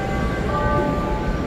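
A Chicago train ride near the Adams and Wabash stop: a steady, loud rumble of rails and carriage with faint tonal squeals riding on top, continuous throughout.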